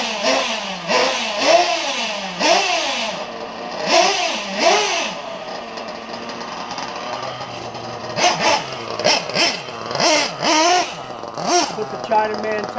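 A Hyper 7 RC buggy engine revs in rain and mud, rising and falling in rapid bursts of high, nasal whine, repeated throttle blips with a pause midway, and talk at times over the engine.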